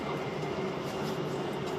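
A train rolls along with a steady, dense rumble and hiss from inside a German rail carriage, constant throughout with no voices.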